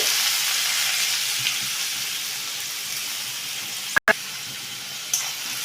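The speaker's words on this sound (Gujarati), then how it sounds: "આ રીતે ડુંગળીને બધી સરસ સાંતળી લઈશું." Chopped onions sauté in oil with asafoetida, a steady, fairly loud sizzle that runs without pause, broken by a brief clatter near the end, with no one talking.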